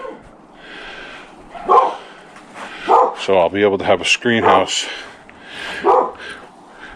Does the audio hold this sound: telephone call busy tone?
no